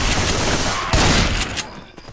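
Rapid in-game gunfire from the zombie shooter Left 4 Dead 2, a loud dense volley with a sharp burst near the middle before trailing off, no talk over it.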